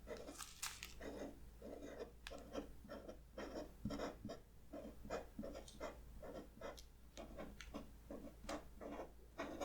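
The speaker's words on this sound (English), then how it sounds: "I'm gonna write them on little pieces of masking tape with a permanent marker" A permanent marker writes on small pieces of masking tape, close and soft, with a steady series of short squeaky scratching strokes over a quiet room hum.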